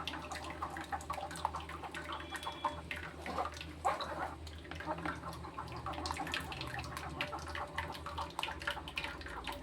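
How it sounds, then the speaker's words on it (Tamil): Tomato pachadi juice being poured and strained through a large sieve, giving a steady close trickling and splashing of liquid that runs for the whole stretch with no talking. "அதுக்கு தான் இந்த மாதிரி ஒரு பெரிய சலடையெல்லாம் ஊற்றி நம்ம வடிகட்டணும்."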